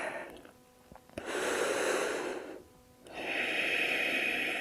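Two long, deep breaths during a yoga class, each a loud, airy inhale or exhale close to the mic, separated by short quiet pauses.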